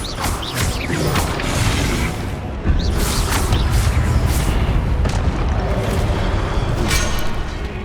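Expelliarmus spell effects from the Hogwarts Legacy video game, a dense, continuous roar of booming magical blasts and crashing impacts with brief bright whooshes, loud and sustained for several seconds.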